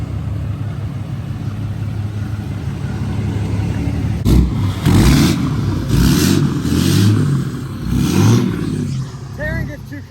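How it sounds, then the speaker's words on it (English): A lifted second-generation Cummins diesel crew cab pickup engine revs in several strong bursts over a steady low idle, close and loud, with the last rev trailing off. "she always likes to rev it up and use my exhaust brake to the max"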